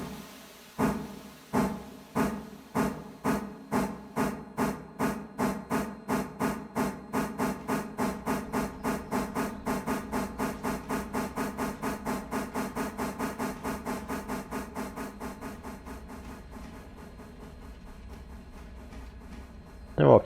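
A steam locomotive in the Railroader video game chuffs with rhythmic bursts of hissing steam from open cylinder cocks, starting slow and steadily quickening into an even, rapid beat.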